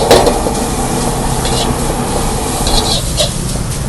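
Fried rice with shredded chicken and sausage stir-fried in a pan, a steady loud sizzle with scraping spatula strokes and faint clinks throughout, no voices.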